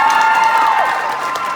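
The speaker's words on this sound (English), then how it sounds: "You can clap for that." A Q&A audience at a fan event with Oliver Phelps in Sandy, Utah claps and cheers briefly, a loud, busy burst of crowd noise with a tonal hum running underneath.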